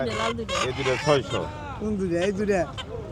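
Chickens cluck and a rooster calls amid nearby speech at a village market, the bird sounds mixed under the voices.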